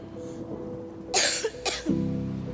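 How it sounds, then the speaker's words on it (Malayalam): Someone coughs in a staged Malayalam Christian play: two harsh, close bursts about half a second apart, set against a quiet, faintly humming room. "കേട്ടില്ലേ ചുമക്കുന്ന ശബ്ദം"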